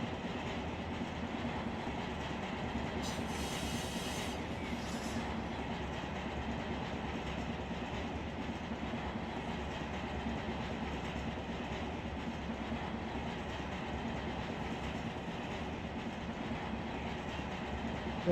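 Freight cars of a local train in the Run 8 train simulator roll steadily along the rails, a continuous near rumble with faint clicking and a brief high squeal early on, no voices over it.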